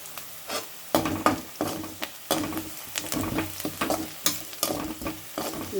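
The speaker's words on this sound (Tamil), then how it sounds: "நான் ஒரு 4 வெங்காயம், மீடியம் சைஸு 4 வெங்காயத்தை கட் பண்ணி வதக்கியிருக்கேன்." Four medium sliced onions with curry leaves sauté in a pan for Chettinad chicken thokku, a steady sizzle broken by repeated scraping stirs and spoon knocks at close range, with no talk.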